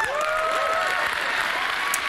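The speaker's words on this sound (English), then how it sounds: "sir, need an applause." A crowd applauds steadily and loudly throughout, with a few whistle-like tones sliding over the clapping.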